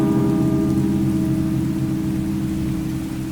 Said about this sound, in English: And it rains in this world too.